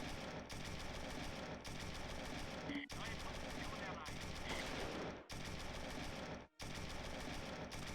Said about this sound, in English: Reloading the anti-tank rifle, he's firing with it.